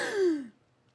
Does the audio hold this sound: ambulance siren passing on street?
no